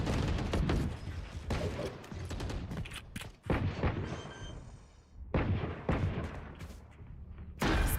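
Sheriff pistol shots in the tactical shooter Valorant during a pro tournament match, a handful of sharp cracks spaced irregularly amid other game noise and effects.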